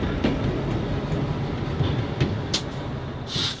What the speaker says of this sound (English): TVRM trains have to battle a steep grade that leads into the museum's trackage